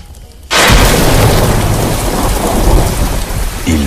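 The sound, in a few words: thunderstorm with rain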